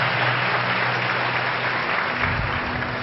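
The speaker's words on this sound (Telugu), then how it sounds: "గట్టిగా చప్పట్లు కొడుతూ యేసుని ఘనపరుద్దాం" A church congregation claps loudly and continuously in worship, a thick, steady roar of hands with a faint low hum beneath, holding an even level from start to finish.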